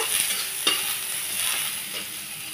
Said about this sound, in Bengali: এইবার আমি এই পেঁয়াজ কুচিটাও এর মধ্যে দিয়ে দেবো, দিয়ে আমি আবার ভেজে নেব।